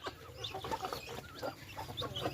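A mother hen clucking in a small chicken enclosure, a string of short, fairly close clucks and soft calls with faint background noise and no talking.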